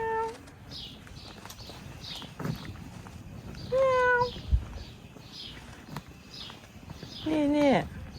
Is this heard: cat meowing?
yes